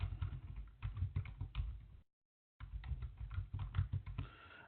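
Rapid, close clicking on a computer keyboard in irregular bursts, broken by a brief silence before the typing resumes.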